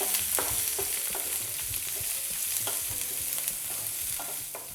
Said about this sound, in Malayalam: ഒന്ന് വഴറ്റിയെടുക്കാം.